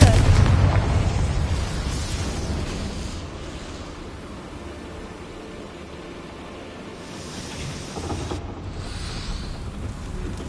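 Confringo, an explosive fire spell in Hogwarts Legacy, sets off a loud, booming blast followed by a rumbling roar that fades, then a smaller burst near the end.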